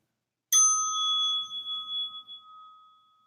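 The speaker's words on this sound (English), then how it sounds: "the next bell we bow to each other" A single mindfulness bell struck once during a meditation session, a clear bright ding that rings out alone and slowly fades with a long shimmering sustain.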